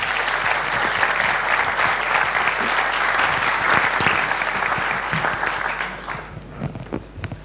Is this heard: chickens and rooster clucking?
no